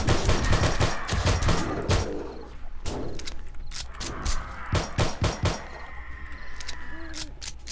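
Pistol shots ring out in 7 Days to Die, sharp single reports spaced irregularly through the clip over a steady background of ambient game noise.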